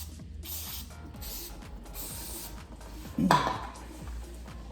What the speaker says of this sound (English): we're gonna get some brake clean going on these guys